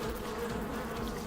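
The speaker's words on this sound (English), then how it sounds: "Maybe don't mess around while there's a swarm of wasps in your pocket." A swarm of wasps buzzes in the video game Drifter, a dense continuous droning hum, steady and fairly quiet, with no voices over it.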